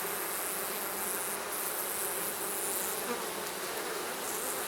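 Dense, steady buzzing of many bees close by, a constant hum with no pauses and no voices.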